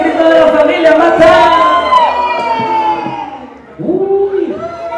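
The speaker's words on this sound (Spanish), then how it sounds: "¿Dónde está el grito de la familia Mata?" A family group at a birthday party in an events hall shouts a loud, close team cheer together, with whoops and children's voices mixed into the burst of yelling, followed by a second shorter outburst.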